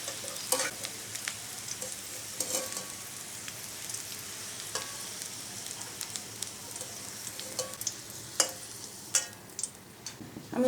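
Fried potatoes for a poppy-seed curry are lifted out of hot oil, a faint continuous sizzle broken by scattered clicks and scrapes of a utensil against the pan.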